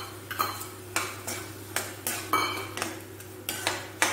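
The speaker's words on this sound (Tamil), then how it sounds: "இப்போ இந்த வெங்காயம் வந்து நல்லா வதங்கிடுது" Onions and tomatoes sauté in a pan for a soya gravy, stirred with a metal spoon that scrapes and taps the pan in a regular rhythm roughly every half second over a faint sizzle.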